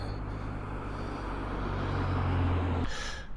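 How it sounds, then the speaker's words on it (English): Road traffic rumbles past along an uphill running route, a steady low engine drone that swells as a vehicle nears and then cuts off sharply near the end. "Enjoy some traffic."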